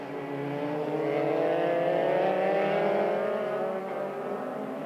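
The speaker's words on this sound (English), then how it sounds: "It's the leading group of cars head down towards turn 10" Leading pack of race cars heading toward turn 10 on a racing circuit, engines droning loud and continuous with rising and falling pitch as several cars pass, no voices over it.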